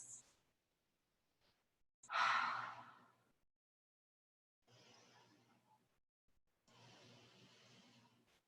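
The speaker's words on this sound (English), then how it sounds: "3 more deep, long breaths." Slow, deep breaths during a vinyasa yoga session: a sharp audible inhale, then two long, soft exhalations separated by silence, close and fairly quiet with no talking.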